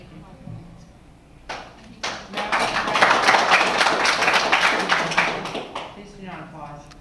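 Audience applause at a stand-up comedy set, clapping swelling over several seconds to a steady, fairly loud patter and then fading, with a voice speaking faintly before and after.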